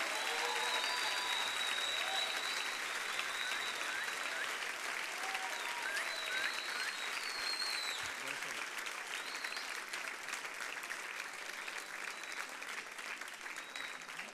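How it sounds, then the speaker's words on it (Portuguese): A church congregation applauds during a worship service, with continuous crowd clapping filling the room, a few voices calling out over it, and the clapping sustained at an even level throughout. "aplauda o Senhor, aplauda o Senhor"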